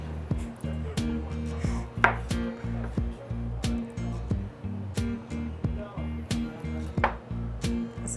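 A large knife chops avocados on a cutting board in a restaurant kitchen in Coeur d'Alene, Idaho, in steady, evenly spaced thuds, about one or two per second, with a voice talking softly underneath.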